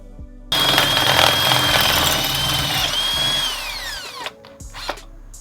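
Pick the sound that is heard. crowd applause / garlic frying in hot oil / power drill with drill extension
power drill with drill extension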